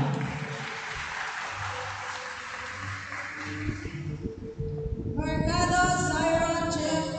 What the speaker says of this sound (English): Once again, a round of applause for Mr. Gerard Malaca